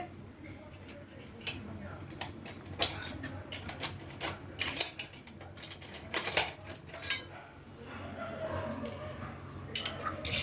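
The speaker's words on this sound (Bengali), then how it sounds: "খুব ভালো করে এটাকে একটু নাড়িয়ে নেব খুব ভালো করে আমি নাড়িয়ে নেব" A spoon scrapes and clinks against a pot while a spiced chhana (cottage cheese) mixture is stirred, giving irregular metallic taps and scrapes of varying loudness close by, with someone talking over it.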